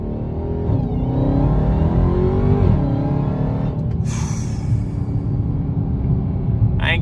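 A Dodge Hellcat with a JLT intake, its engine droning loud and low from inside the cabin after a downshift, rising and settling in pitch with a steady road rumble underneath.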